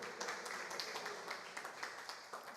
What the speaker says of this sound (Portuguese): Dá uma forte salva de palmas ao nosso Deus Todo-Poderoso